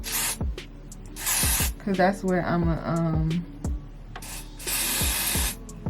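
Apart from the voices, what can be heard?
spraying hair spray on a wig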